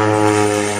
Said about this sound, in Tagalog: Yung standfell ko maingay yung eroplano kasi nag-spray ng saging.